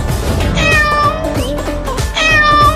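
A cartoon cat meows loudly and repeatedly, with drawn-out, pitch-bending cries close up over a busy animated soundtrack, as the cat gives up chasing a mouse.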